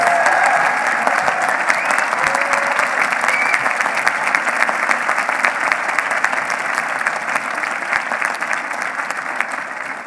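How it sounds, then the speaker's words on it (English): A commencement audience at Vermont Law School applauds steadily and loudly for a full ten seconds, a dense, continuous wash of many hands clapping with a faint murmur of voices beneath. "Okay, applause for that last degree."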